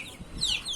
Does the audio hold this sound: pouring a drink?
no